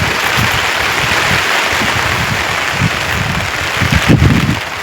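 Monsoon rain pours down outdoors as a loud, even hiss with low wind rumble that swells briefly near the end, with no voices.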